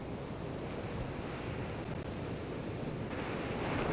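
Ocean waves wash in a steady, continuous roar of surf, broad and even throughout with no breaks or distinct crashes, and no voices.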